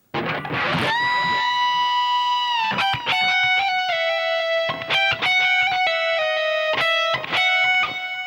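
Overdriven electric guitar plays sustained lead phrases from the third solo of Sweet Child O' Mine, with bent and held notes, loud and close, with short pauses between phrases.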